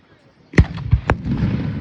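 Fireworks burst outdoors at a high school senior sendoff, three or four sharp booming pops in quick succession after a quiet moment, followed by a lingering crackle and crowd murmur.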